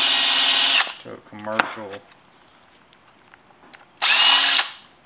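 A power drill spins up to trim 223 brass cases, sounding as two loud, steady high-pitched whines, one at the start and one near the end, with someone talking briefly between them.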